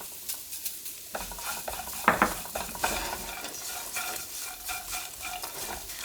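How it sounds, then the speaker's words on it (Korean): Seasoned laver (gim) stir-fried in a pan over low heat, a steady soft sizzle with repeated dry scraping and stirring strokes from a utensil against the pan, close and alone. "불을 지금 줄여서 달달달달 볶고 있어요"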